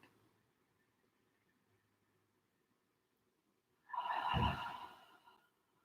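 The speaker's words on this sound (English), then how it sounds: "So we'll take a cleansing breath to start" A single cleansing breath during a yoga session, one close, soft exhale rushing out after a near-silent pause and fading gently.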